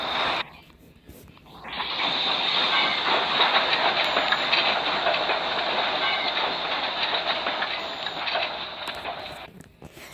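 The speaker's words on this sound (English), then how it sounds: "The two coaches looked rather confused as Thomas hauled them back to the carriage shed." A toy steam engine hauling two coaches along rails back to a carriage shed gives a steady, continuous rolling rumble with faint rail clatter that fades in and runs evenly for several seconds before stopping.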